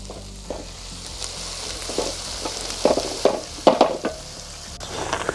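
Garlic frying with green asparagus over a wood-fired rocket stove, a steady sizzle punctuated by several louder bursts of crackling and scraping as the pan contents are moved.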